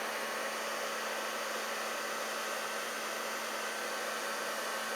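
Heat gun blowing hot air to melt embossing powder on a craft card, a steady, even whooshing blower noise with a fixed motor whine, continuous and close.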